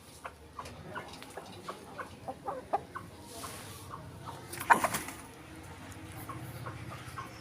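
Several White Knight chickens cluck softly in a coop, with a steady scatter of short, faint clucks throughout and one louder burst near the middle.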